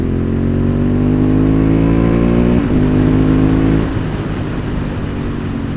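A Honda CB750 Hornet motorcycle at full throttle: a loud, close engine with a steadily rising whine that climbs through the revs, eases briefly, pulls on again and then backs off.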